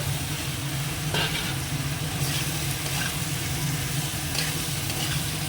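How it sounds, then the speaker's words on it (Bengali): Vegetables poured into a hot pan with spices and a splash of water sizzle and fry steadily, with light scraping of stirring over a constant hiss; moderately quiet and close, no talk. "একটু জল দিয়ে দিই এবার তরকারিটাও এর মধ্যে ঢেলে দিচ্ছি"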